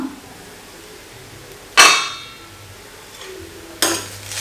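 A metal pot lid lifts off a pan of dosa uppumav, giving two sharp clanks about two seconds apart, close and fairly loud over a quiet kitchen background.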